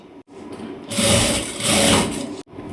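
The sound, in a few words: sewing machine stitching blouse lining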